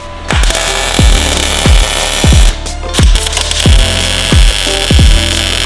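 Tack welding a bracket onto a Porsche 911 gives a loud run of short repeated bursts, roughly one every half second, over a steady mechanical hum. No one speaks.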